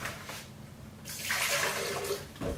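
Water pours into a shaker for a protein shake, a steady rushing splash that swells after a quiet start and continues to the end.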